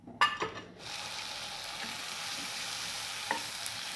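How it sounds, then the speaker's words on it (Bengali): Shrimp frying in a little mustard oil in a pan: a few clattering knocks at the start, then a steady, even sizzle that holds close and continuous to the end, with one faint clink. "প্রথমে একটা প্যানে আমি হালকা একটু তেল নিয়ে নিব সরষের তেল চিংড়ি মাছগুলোকে ভাজার জন্য।"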